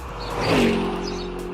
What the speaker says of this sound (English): to hear cars as we cross the road